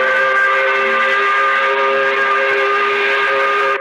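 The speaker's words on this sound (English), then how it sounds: "That's why we blow the 5 o'clock whistle." A loud, sustained steam-style 5 o'clock whistle in New Orleans sounds as a steady multi-tone chord that holds for nearly four seconds and then cuts off abruptly.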